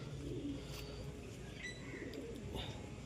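Soft cooing of an Andhra pigeon amid a busy background of chirping birds, low and repeated, fairly close.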